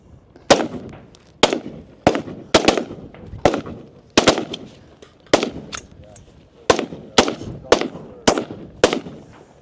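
Sharp, loud pistol shots ring out at a shooting competition, a dozen or so cracks in quick pairs and short strings with brief pauses, close to the listener.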